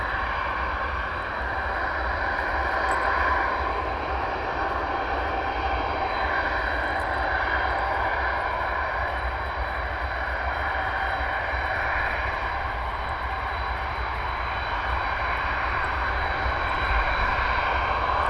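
An Antonov AN-124 taxiing at RAF Brize Norton, its engines giving a steady, loud, sustained roar with a droning whine that holds evenly the whole time, with no voices.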